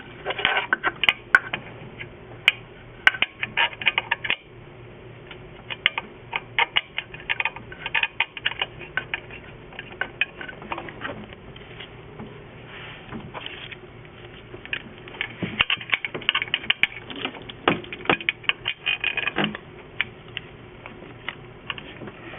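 Bolts on a GM 3800 engine's tensioner assembly being tightened with a ratchet, giving long runs of quick, light clicking ticks close by, pausing now and then before the clicking resumes.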